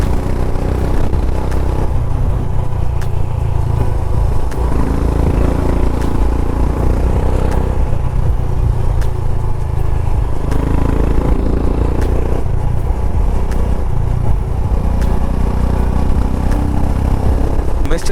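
A motorcycle climbing a hill toward the Maidadi viewpoint near Kalasa, its engine droning loud and steady with rattling clatter and wind noise throughout, the throttle rising and falling slightly as it goes.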